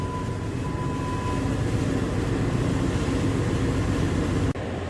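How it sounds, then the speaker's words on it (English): A MAN B&W 6S60ME-C Mk 8.2 marine diesel engine fires in astern while starting, giving a loud, steady, broadband rumble with low mechanical drone and throb that cuts off abruptly near the end; no one speaks. "the engine fires in astern"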